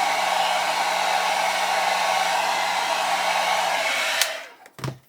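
A heat gun blows a steady, loud rushing hiss onto the tyre of a Pocher 1/8 scale Lamborghini Aventador model, running alone for about four seconds before being switched off and shifted with a couple of short knocks.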